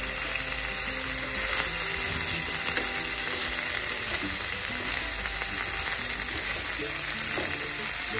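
Marinated food is stirred in a hot pan with a knife, giving a dense, continuous sizzle under rapid, ratchet-like scraping and clicking up close.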